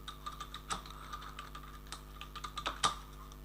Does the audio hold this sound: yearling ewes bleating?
no